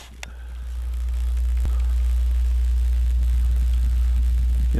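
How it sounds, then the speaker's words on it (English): Overhead power lines along a lake trail give off a deep, steady electrical hum that swells in over the first second and then holds constant and loud, with faint scattered rustles. "You can hear the electricity going through there."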